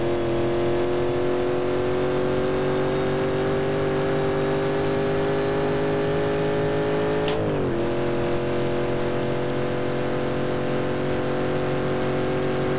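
A 1960s Shelby Cobra in Assetto Corsa races around the Nordschleife, its engine droning steadily at high revs with a brief pitch dip and quick shift blip midway, then holding a loud, sustained tone.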